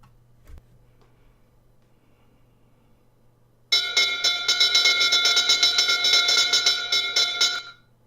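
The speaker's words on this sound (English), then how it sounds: "Bell's gonna ring in about, I want to say 11 minutes" A stock market opening bell rings out loudly and steadily for about four seconds after a stretch of near silence, its bright metallic tone sustained without a break before cutting off.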